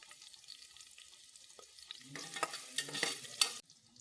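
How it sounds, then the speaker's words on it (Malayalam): Chopped onion is sautéed in a pan for biryani, starting with a faint, low sizzle and then louder bursts of spoon-stirring and scraping near the end before it quiets. "അതിലേക്ക് 1 പിടി സവാള കൂടി ചേർത്ത് വഴറ്റുക."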